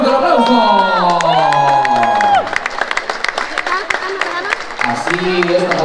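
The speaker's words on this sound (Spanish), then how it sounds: "Y para quien también voy a pedir un fuerte aplauso." Crowd at an Ximbó contest in Actopan applauding and cheering loudly, with shouts and whoops over steady clapping and voices rising and falling throughout.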